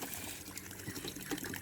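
A sack of rice seed being lowered into water for soaking, a steady close gurgle and slosh with a few faint splashes; no talking.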